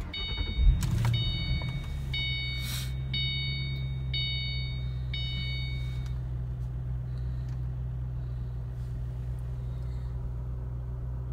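A 2009 Ford Mustang GT convertible starts with a short cranking burst, then settles into a steady low idle rumble, with a few dashboard chimes sounding over the first several seconds.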